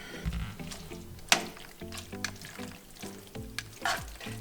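Pasta noodles being mixed into a cheesy seafood sauce, giving wet, squelchy stirring sounds with a few sharp clinks of a utensil against the pan, fairly close and steady with no talking.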